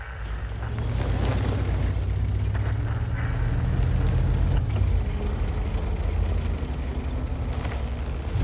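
A heavy tank shell strikes the turret of an Object 261 in a tank game, a deep booming impact that rolls into a sustained low rumble, loud and close for several seconds with no voices.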